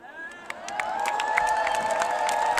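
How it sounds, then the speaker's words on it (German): Concert crowd at a show in Hamburg cheers and claps, rising from quieter to louder, with whistles and high whoops over a broad roar of voices and hands. "Ja, das ist ein Applaus"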